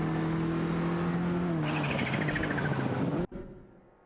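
Race cars including a De Tomaso Pantera GT5 and a Ferrari 512 TR roar through a racing video game, a steady engine drone shifting to a higher whining rev before cutting off abruptly and trailing into quieter noise.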